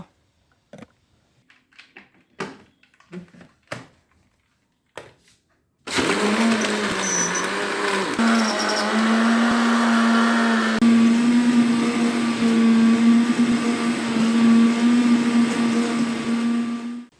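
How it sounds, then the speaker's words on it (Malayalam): An electric blender whirring through a mango leaf drink with water and ice cubes: a few soft clicks and taps, then a loud, steady motor drone that runs for about eleven seconds close by. "ഇനി നമുക്കിതൊന്ന് അടിച്ചെടുത്താലോ"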